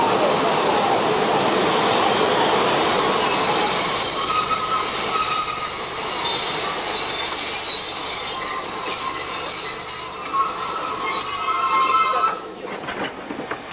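A German Class 50 steam locomotive, number 050-630, pulls a local passenger train into Freudenstadt station, wheels squealing with high sustained whines over a steady rolling rumble that eases toward the end.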